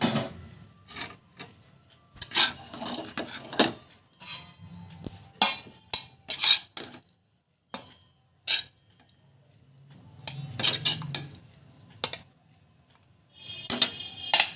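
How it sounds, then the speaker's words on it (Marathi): Cooked batata poha being served from a pan into a dish, a series of close metal spoon scrapes and clinks against the pan, irregular and sharp with quiet gaps between. "आता हे पोहे आपण डिशमध्ये काढून घेऊया"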